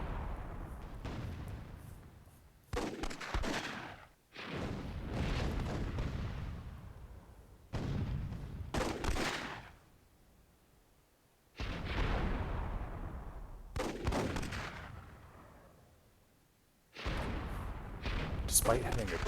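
Cannon fire in the World War II themed match of the strategy game Myth II Soulblighter, several heavy booms with rumbling decays spaced a few seconds apart, mixed with a commentator talking between and over the blasts.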